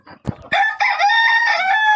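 A fancy-breed rooster at a poultry farm crows close and loud, one long sustained cock-a-doodle-doo after a few short clucks and scuffles.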